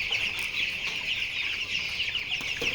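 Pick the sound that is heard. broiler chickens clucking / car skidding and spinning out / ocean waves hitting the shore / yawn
broiler chickens clucking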